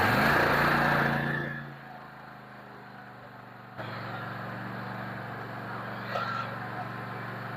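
A used Toro zero-turn mower with a 24.5 horsepower engine and 152 hours runs loud at first, then drops away. After a short lull it picks up again as a steady, rough outdoor engine drone.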